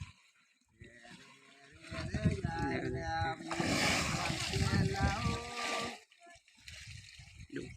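A dog splashing and playing in water, loud sloshing and splattering bursts with someone talking over much of it.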